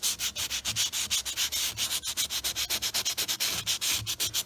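A 100-grit sheet of sandpaper rasps back and forth across an MDF board being prepped for resin, a loud, steady run of rhythmic strokes close up with no talking.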